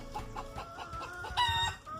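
A rooster clucks in a short series of close, soft calls, ending in a brief louder squawk, with quiet farmyard background and no talking.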